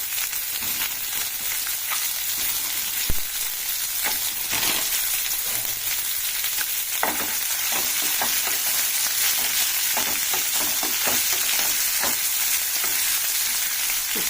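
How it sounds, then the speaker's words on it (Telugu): Onion and dried red chillies fry in a pan with a continuous crackling sizzle, punctuated by frequent sharp clicks and scrapes from stirring. "ఉల్లిగడ్డ కొంచెం మగ్గిన తర్వాత దీంట్లో కారానికి సరిపడా ఎండుమిరపకాయలు వేసుకోవాలండి"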